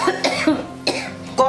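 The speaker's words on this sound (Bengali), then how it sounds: "একটু একটু ঠান্ডা কাশতেছি" A woman with a cold and fever coughs several times in short, close bursts, with a throaty, chesty rasp and brief pauses between the coughs.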